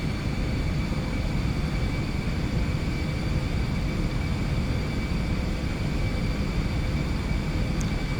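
Jet engine of an Aerobask Eclipse 550NG in the X-Plane 11 flight simulator, a constant loud cabin drone and broadband rumble with a faint steady whine, unchanging and without voices.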